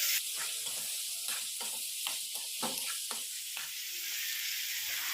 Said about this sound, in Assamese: মাংসখিনি এতিয়া অলপ টাইমৰ কাৰণে ভাজি ল'ম